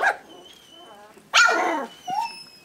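A female puppy from a litter yaps and barks in short bursts, with a louder, brighter volley of barks in the middle of the clip and a brief whimpering yip near the end, all close by.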